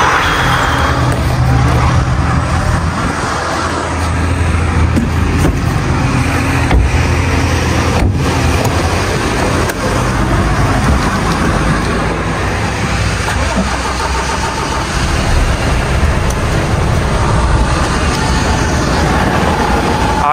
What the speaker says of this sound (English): we can start engine.